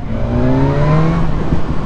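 A BMW S1000R motorcycle engine revs hard and close, its pitch climbing sharply within under two seconds, loud and alone.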